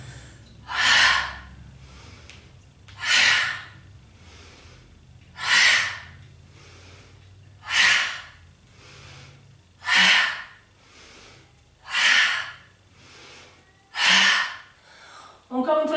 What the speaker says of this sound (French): Inspire, expire. Expulsez votre souffle.